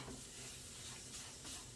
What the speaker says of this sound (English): I want to make sure the flour actually browns and cooks in the fat